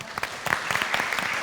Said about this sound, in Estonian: suur aplaus sulle